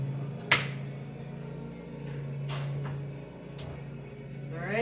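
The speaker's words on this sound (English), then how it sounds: "Cut up your onion." A knife cuts up an onion in a home kitchen, making a few sharp, separate taps against a board over a steady low hum from the cooktop.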